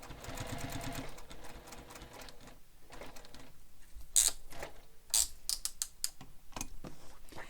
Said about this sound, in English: And I'm going to stitch very slowly so that I stop right in the hole that I started in.